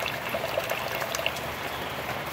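Liquid from a gold-recovery rinse of corner BGA chips is poured off from a container, giving a steady, soft trickling splash with faint droplet patter throughout.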